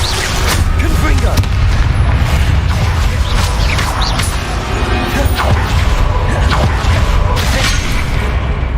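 Confringo explosive spell blasts in Hogwarts Legacy gameplay, loud repeated booming impacts and crashes in a dense, continuous barrage of combat effects.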